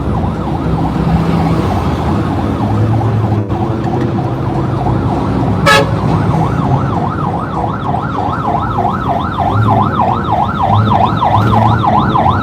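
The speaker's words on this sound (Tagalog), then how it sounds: "Ano yung ambulansya?" A wailing siren rises and falls steadily over constant traffic rumble, growing clearer partway through and continuing to the end.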